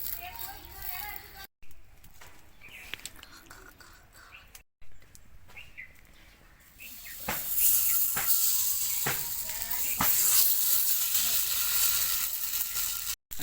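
Oil on a hot dosa griddle with spiced well fish gives a bright hiss that swells loud and steady through the second half, with talking over it.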